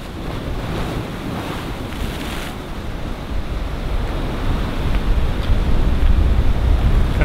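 Ocean swells and surf wash against a rocky shore where someone is light rock fishing, a steady, loud roar of breaking water mixed with gusting wind noise on the microphone that builds slightly toward the end.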